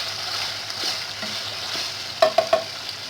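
Chicken boti sautéing in a pot gives a steady low sizzle, then three quick scraping stirs near the end, with no voices.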